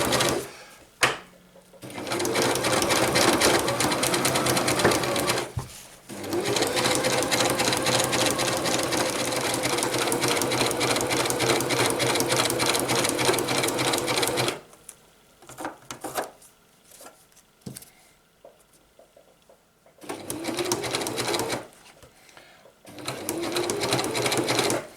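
A sewing machine stitches a homemade stuff sack, running in long loud continuous buzzing bursts broken by short pauses for reverse stitching, close up and with no talking.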